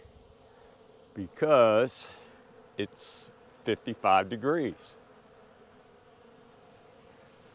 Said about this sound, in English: the bees are out and hungry